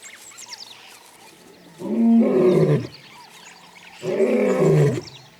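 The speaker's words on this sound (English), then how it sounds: "He announces his presence with a bellowing roar, which can be heard for up to 8 kilometers." A male lion in his territory gives two loud, bellowing roars about two seconds apart, each a deep sustained growl, close and powerful, with quiet wild ambience between them and no talk.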